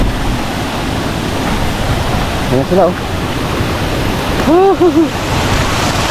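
Water rushes loudly and steadily at Nangoloan Falls in San Felipe, Zambales, a dense waterfall roar throughout, with a person briefly speaking over it.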